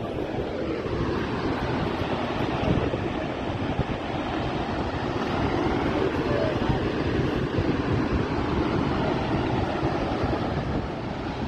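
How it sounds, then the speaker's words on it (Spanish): Montmorency Falls in Quebec roars as a steady, broad rush of falling water, loud and unbroken throughout, with wind buffeting the microphone and no clear talk over it. "Para poder observar la catarata de Bontangmi"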